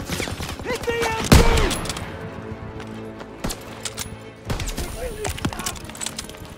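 Machine gun bursts and rapid gunfire ring out in a World War II battle in the video game Call of Duty WW2, loud and continuous, with a heavy explosion and shouted voices mixed in.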